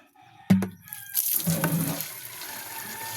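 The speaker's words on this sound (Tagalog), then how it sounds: "Kusog atong agas." Water running strongly from a hose or tap while cleaning a terrace, a sudden splashing gush that settles into a steady, close rushing stream.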